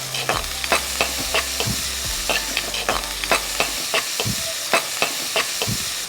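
Capsicum sautés lightly in a pan for a tulsi paneer thokku, a close sizzle broken by frequent sharp scrapes and clacks of a spatula stirring in uneven rhythm.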